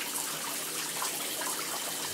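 Shower water runs steadily as a child washes his hair, a close, even hiss of spray with no talking over it.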